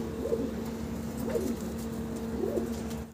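Pair of Turibaz fancy pigeons cooing in three close, soft rolling bursts over a low steady hum, with no talk.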